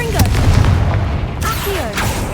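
The Confringo fire-blast spell goes off in Hogwarts Legacy as a loud booming burst with crackling debris. Sharp impacts and sweeping whooshes follow, and the dense game soundscape stays busy throughout.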